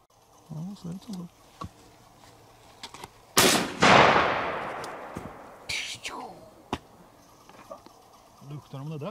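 A single loud, close shotgun blast during pigeon hunting in a pea field, a sharp crack with a long decaying tail, with faint talk and a buzzing insect nearby before and after.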